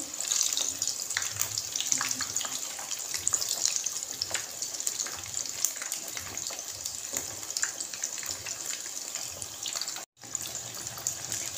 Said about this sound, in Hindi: अब इनको तब तक आप लोगों ने फ्राई करना है जब तक आपको श्योर हो जाए कि अंदर से पक चुका है